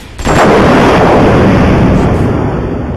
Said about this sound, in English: Once we blow up this tank